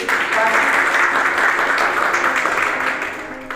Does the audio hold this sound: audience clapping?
yes